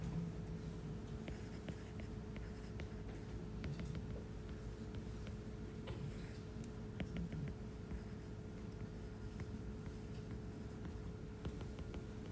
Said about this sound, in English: I think I need to write this down.